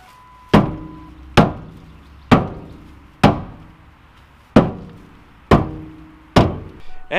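A big hammer bangs on the fuel tank of a Ford F150 pickup. Seven heavy, resonant metallic thuds land at roughly even intervals, each ringing briefly before the next.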